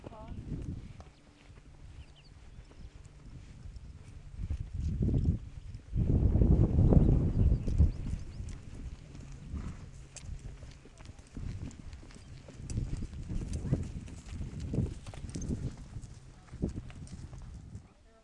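Horse hooves clip-clop steadily on a trail ride, a walking gait with a louder burst of hoofbeats midway, while a rider talks over the rhythmic steps.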